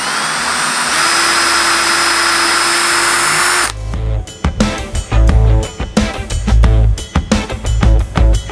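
A power screwdriver drives screws into panels, first as a steady high whine and then in loud bursts separated by short pauses and clunks as the panels are fastened together. No one speaks.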